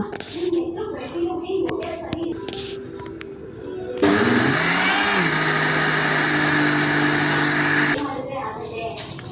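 A mixer grinder whirs loudly while grinding soaked ragi with coconut and water, running steadily for about four seconds in the middle of the clip, with someone talking before and after it.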